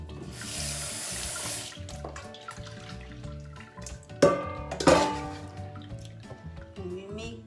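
Tap water splashes into a sink while sticky rice is washed for Thai mango sticky rice, a steady close rush early on, then clinks and sloshing as the grains are stirred and handled.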